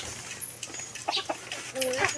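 Chickens clucking softly in a quiet outdoor setting, a few short calls scattered over faint background noise, with a person talking nearby.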